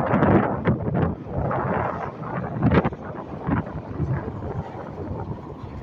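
Strong summer wind sweeps across the San Joaquin Valley, a continuous broadband roar with gusty surges buffeting the microphone throughout, and no voices.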